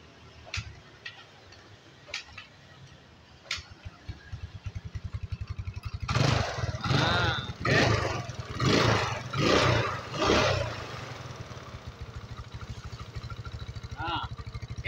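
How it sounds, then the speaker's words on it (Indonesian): A Yamaha Mio motor scooter engine, brought in stalled, clicks over a few times, then catches and revs in several bursts before settling into a steady idle nearby. "Ini motor sudah hidup."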